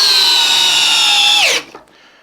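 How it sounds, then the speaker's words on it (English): Metabo HPT cordless drill in drill mode at high speed on a fully charged battery, driving a 6-inch fastener into wood with a loud steady whine that drops in pitch as it bogs down and then cuts off abruptly. "starting out in high speed with a full charged battery in drill mode"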